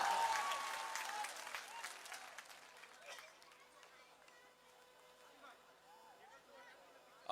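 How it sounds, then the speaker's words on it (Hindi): A crowd claps in welcome for Rana Ranjeet Singh at an outdoor rally ground at Daka High School, a loud dense burst of applause that gradually thins and fades over several seconds, with faint chatter beneath. "जोरदार तालियों से इस्तकबाल करें।"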